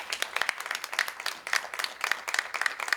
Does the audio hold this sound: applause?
yes